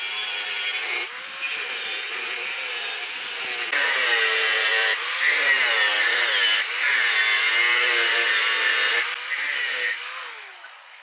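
A coconut-leaf cutting machine fitted with a normal cutting blade slices through coconut fronds, giving a steady, loud, rasping whine with pitch shifts as the blade bites, running continuously before fading out at the end.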